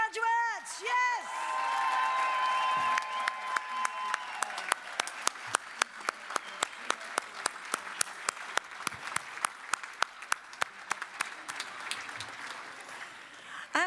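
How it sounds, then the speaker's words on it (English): Steady applause from a large graduation ceremony crowd at the University of West London, starting with brief cheers and whoops, then settling into dense, rhythmic clapping that continues throughout. "a huge round of applause for all of those graduates"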